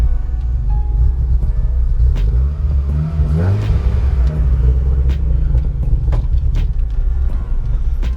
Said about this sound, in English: I don't think this car likes running without the supercharger on